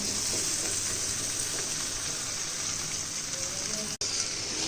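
Okra frying in hot oil for a curry, a dense continuous sizzle that stays loud and close with one brief drop-out near the end.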